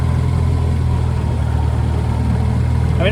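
A small outboard motor runs steadily on a Newport Seascape 9' dinghy, a loud, continuous buzzing drone held close and unchanging throughout.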